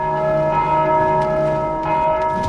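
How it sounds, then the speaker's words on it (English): Enemies ringing bells in Dark Souls 2, a sustained metallic clang with a lingering resonant tone, several strikes overlapping in a reverberant space, fairly loud and without speech. "those are the enemies that are ringing the bells"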